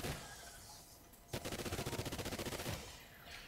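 Rapid automatic gunfire from the Ark Extinction video game, a fast even burst of about fifteen shots lasting over a second, preceded by a single sharp shot and a background of game ambience.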